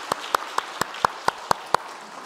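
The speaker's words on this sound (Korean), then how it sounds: "우리 같이 격려하고 축복하는 박수 하도록 하겠습니다." Congregation at a Korean church Sunday service applauding the choir, heard as eight crisp, evenly spaced claps in a steady rhythm, fairly close, with no talking.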